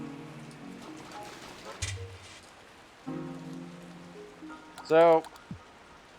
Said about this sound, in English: And it's raining in the wilds of the tropic.